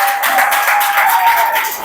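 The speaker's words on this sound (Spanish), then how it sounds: "dale un fuerte aplauso al Señor" A church congregation bursts into loud, sustained applause, dense rapid clapping from many hands filling the room, with a few raised voices mixed in.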